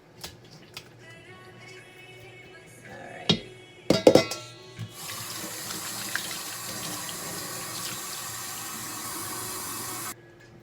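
A kitchen faucet runs as the top of a can is rinsed under it: a few clinks and thunks of the can, then a steady rush of tap water for several seconds that stops abruptly.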